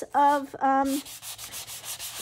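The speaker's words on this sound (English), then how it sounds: "I'm just sanding this paper and I am making sure to get on the sides too to get that washed look." Sandpaper rubbed back and forth across cardstock edges while making a handmade card, giving a washed look; a brief voice comes first, then a run of soft, rhythmic scratchy strokes close by.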